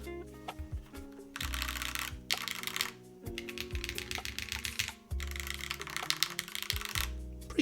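Keys clack on a Lil Keycult TKL mechanical keyboard in irregular close bursts of typing, broken by several short pauses and heavier strikes.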